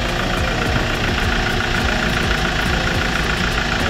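A Hyundai Porter II or Kia Bongo truck engine runs steadily close by, a loud, continuous diesel idle with an even knocking rumble and no talk over it.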